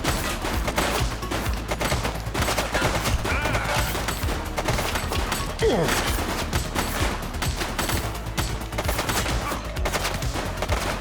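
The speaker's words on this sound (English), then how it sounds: "He's shooting!" Rapid gunfire bursts crackle through a police shootout in The Precinct, continuous loud shots layered with shouted voices and other game noise.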